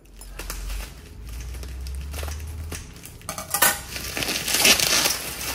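Thick, heavy frosted blue and white glass decanter handled up close: low bumps and rubbing give way to sharp clinks and knocks of glass near the end, with no talk.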